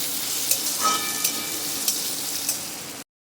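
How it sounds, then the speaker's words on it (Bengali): Potatoes frying in a pan, a steady close sizzle with a few soft stirring knocks, cutting off abruptly at the end. "এবার আমি আলুটাকে ভালো করে ভেজে নেব।"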